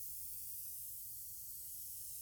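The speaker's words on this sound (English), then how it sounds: "I decided to go with an airbrush to apply the dye this time." Airbrush spraying dye onto damp leather for a handmade belt bag, a steady close hiss of air and mist that runs unbroken throughout.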